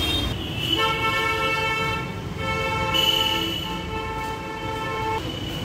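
A train horn blares at a railway station, a loud sustained two-tone blast that holds for several seconds, shifts pitch midway and cuts off near the end, over station background noise.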